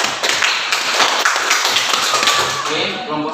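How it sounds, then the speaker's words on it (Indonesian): A classroom of students claps together for a group that has just presented, a dense, steady patter of hands up close that runs the whole time and tapers near the end. "tepuk tangan untuk kelompok"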